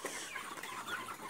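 Fast-growing broiler chickens cluck faintly across a large poultry farm, a soft, continuous scatter of calls with no voices over them.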